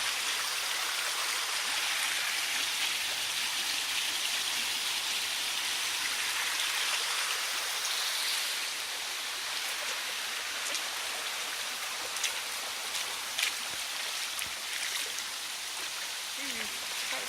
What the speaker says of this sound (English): It's flowing quite fast.